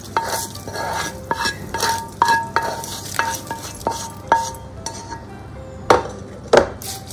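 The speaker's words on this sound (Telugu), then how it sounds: "ఇప్పుడు పోపు నేను వేసుకుంటాను" A tempering of spices in oil sizzles as it is stirred into a mango and spinach (palak) chutney. A soft hiss runs underneath, with repeated spoon clinks and scrapes against the pan in an irregular rhythm.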